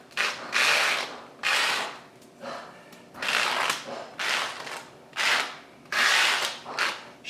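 A plastic conference name badge scraped repeatedly across aquarium glass to clear algae, making a rhythmic series of raspy, scratchy strokes, about eight close passes, each a short burst of rubbing.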